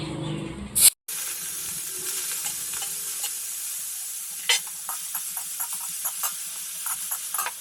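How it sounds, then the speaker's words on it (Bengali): Prawn heads fry in hot oil with a steady close hiss and sizzle, after a brief loud burst at the start; scattered crackles and pops run through the frying. "এইগুলো আমি তেলে ভেজে নেবো আগে"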